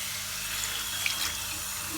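Running tap water splashing steadily while shoes are washed under it, a close, continuous hiss and patter with no talk.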